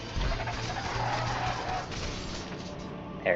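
Bat-like bird demon creatures from God of War: Chains of Olympus give off cooing, bird-like cries over steady combat noise, ending in a sharper burst of sound.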